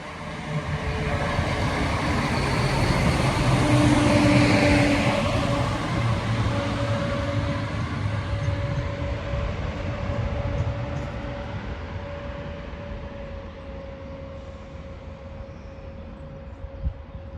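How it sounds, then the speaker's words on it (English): Passenger train on the Matlock to Nottingham service arriving at Attenborough railway station, a loud steady rumble and rolling wheel noise that swells as it nears, then eases off while a faint tone hangs under it as it slows. "Matlock to Nottingham service about to make its stop at Attenborough."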